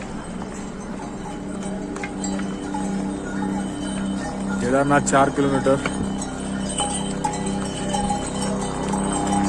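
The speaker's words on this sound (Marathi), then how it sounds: "घोड्याची सवारी चालू आहे." Horse hooves clip-clop along the Kedarnath trail near Gaurikund amid jingling bells, with people talking nearby and a voice speaking over the trail noise.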